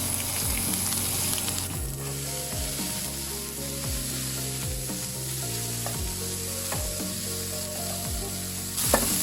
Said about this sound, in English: just put them right in the frying pan again